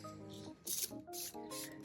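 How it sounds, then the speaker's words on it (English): A spray bottle mists a Grammostola pulchra tarantula's enclosure substrate, giving three short close hissing bursts of spray between soft rustling handling sounds. "gonna give it a little bit of a spray down just to make sure"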